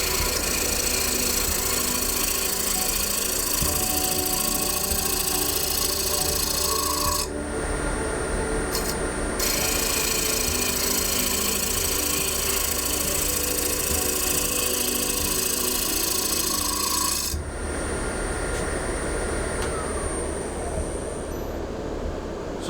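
Woodturning tool taking a light cut on a spinning wooden bowl, a continuous close scraping hiss over a steady lathe hum, lasting the whole stretch with slight changes in tone and no talk.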